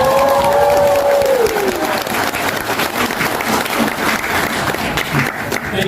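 An audience applauds and cheers to welcome Dr. David Malan onstage at a CS50 event, the clapping dense, loud and steady throughout, with a brief whoop early on.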